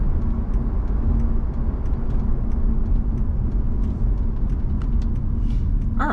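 1998 Mercedes-Benz CLK Brabus with a 5.8-litre M113 V8 driving at low revs, a steady dense rumble of engine and road noise from inside the car, constant throughout.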